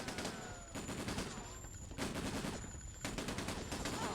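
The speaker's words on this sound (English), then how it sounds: "Are they shooting me through nothing? Where are they shooting me from?" Enemy gunfire in the video game Breakdown comes in bursts of rapid automatic shots, with short pauses between volleys, heard at a modest level and without talk.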